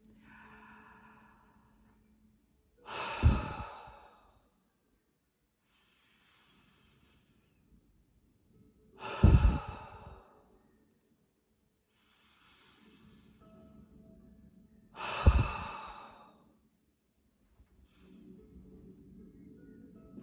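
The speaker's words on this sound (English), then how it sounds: "So clearing breaths are deep inhales and a forceful exhale." Three deep breathing cycles spaced about six seconds apart, each a slow inhale rising into a loud, forceful exhale through the mouth, with quiet gaps between them and no talking.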